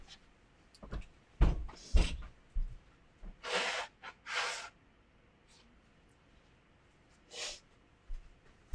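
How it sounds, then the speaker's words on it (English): A few short, breathy nasal blasts, two longer ones in the middle, mixed with small rustles and a quiet bump, close to the listener. "I need to blow my nose"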